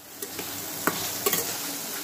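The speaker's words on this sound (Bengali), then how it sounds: "এবার সব মাশরুমগুলোকে ভেজে নিতে হবে" Mushrooms fry in hot white oil in a wok, a steady sizzle broken by several sharp scraping clacks of stirring, close and clear with no voices.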